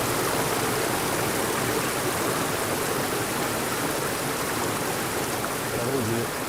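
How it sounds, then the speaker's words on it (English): A creek flowing over small rapids makes a steady, full rushing and babbling wash that stays even and unbroken throughout, close and fairly loud, with no talk. "There are small rapids on the creek."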